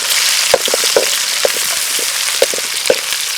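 Hot oil sizzles steadily close by as small onions and chillies fry, a bright hissing crackle with small pops and occasional stirring clicks, no voices over it.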